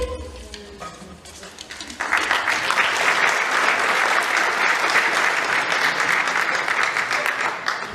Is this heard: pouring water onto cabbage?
no